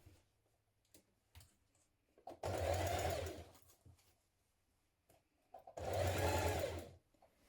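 Two bursts of a sewing machine stitching a trouser waistband facing, each running steadily for about two seconds, with light handling clicks and fabric shuffling in between, close and clear without speech.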